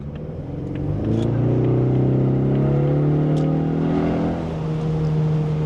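Base Ford Mustang engine pulling hard under acceleration, heard from inside the cabin while driving, a steady loud rising drone with layered harmonics that swells after the first second and holds strong throughout.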